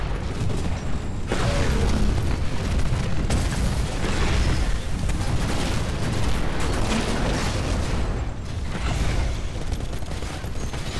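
Grenade explosions in the shooter Titanfall, repeated booms and bursts amid continuous dense battle noise, loud and sustained with a brief dip before resuming.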